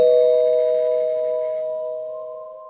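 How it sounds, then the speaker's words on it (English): A doorbell rings once, a clear sustained chime whose bright tones slowly fade out, alone. "rang the bell on the door anyway"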